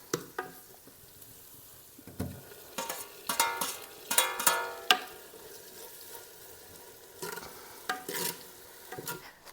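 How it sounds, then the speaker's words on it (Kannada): Chicken is stirred and cooked in a pan, with a spoon repeatedly scraping and clinking against the pan over a soft sizzle, in close irregular bursts. "ಚಿಕನ್ ಹಾಕಿ ಚೆನ್ನಾಗಿ ಬೇಯಿಸ್ಬೇಕು"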